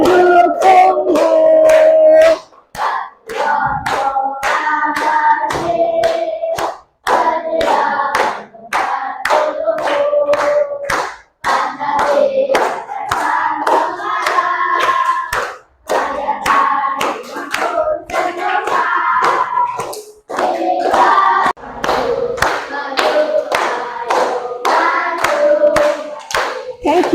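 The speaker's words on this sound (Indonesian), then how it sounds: "Tepuk tangan." Schoolchildren in an Indonesian classroom clap their hands in steady rhythmic beats while singing the patriotic song Garuda Pancasila, loud and close, with the claps running throughout amid their singing.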